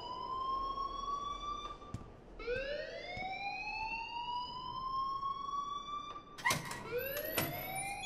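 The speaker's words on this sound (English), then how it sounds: "please turn off that alarm" An alarm rings in the Life is Strange video game, heard as a rising, wailing electronic tone that repeats in long sweeps, loud and steady across the clip with sharp clicks near the end.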